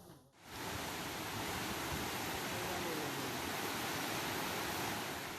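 Fast, deep river current rushing in Tangse, Pidie, Aceh, a steady broadband roar of churning water that starts after a brief dip and holds loud and unbroken throughout.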